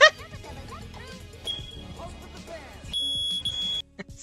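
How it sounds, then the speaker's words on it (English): A fire alarm sounds in an indoor room, a shrill, steady electronic tone that starts partway through and holds for about a second, following a burst of noise and a voice. "It's the fire alarm going off."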